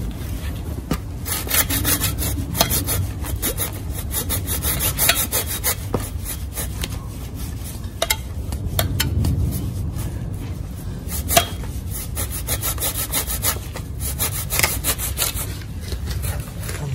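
An agricultural carpentry saw cuts through a thick wooden bonsai trunk, a close, steady run of rough rasping strokes with brief pauses and a few sharp knocks, with no talking.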